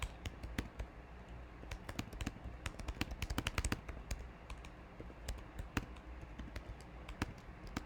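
Fingers type a comment on a computer keyboard in quick, uneven bursts of close, crisp key clicks, with brief pauses between runs and no talking.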